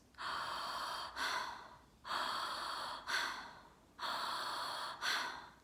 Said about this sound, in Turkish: Nefes alıp vermeye devam et.